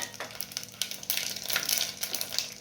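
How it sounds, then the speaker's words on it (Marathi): Whole spices crackle and sizzle in hot oil mixed with ghee, a steady close-up frying hiss with brighter bursts as the pan settles, no voices. "आता आपण यामध्ये आपला खडा मसाला टाकून घेऊ।"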